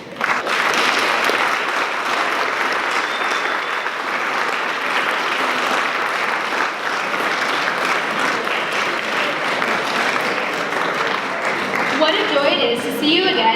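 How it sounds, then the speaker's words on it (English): Sustained, loud applause from a large audience at an annual charity event for Paper for Water, steady and dense throughout with a brief swell near the end. "Can everyone give a huge round of applause for Curtis Eggmeyer?"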